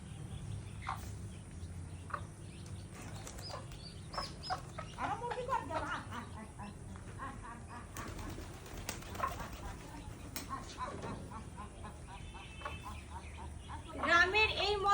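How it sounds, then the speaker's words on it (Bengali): Village poultry, including chickens and pigeons, cluck and coo while being fed, scattered calls near and far over a soft outdoor background, with a louder flurry at the end. "গ্রামে এসে এত হাঁস মুরগি কবুতর দেখলাম"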